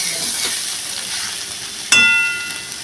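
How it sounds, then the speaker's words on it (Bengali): Chopped tomato drops into a hot pan of oil for a Rui fish head curry, a sudden sharp sizzle rising over a steady background hiss of frying, close and fairly loud. "এই টমেটো কুচিটা এবার দিয়ে দিচ্ছি।"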